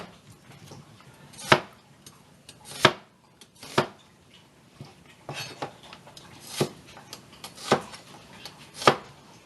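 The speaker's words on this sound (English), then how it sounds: "let's cut up our fresh onions" Fresh onions being chopped with a very sharp kitchen knife, a series of crisp, fairly loud knife strikes on a cutting board at an uneven rhythm, roughly seven or eight distinct chops with quiet gaps between them.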